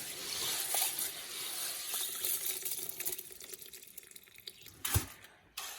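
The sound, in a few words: washing and draining hemp seed particles with water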